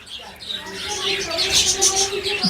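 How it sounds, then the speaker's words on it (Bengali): Zebra finches in a home bird enclosure chirp in rapid, high, overlapping tweets that sound close and lively. A voice talks faintly underneath. "ওগুলো আছে আমার কিন্তু জেব্রা ফিঞ্চ। তো জেব্রা ফিঞ্চগুলো দেখুন"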